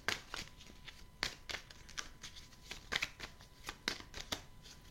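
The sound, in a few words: shuffling tarot cards to draw a bonus card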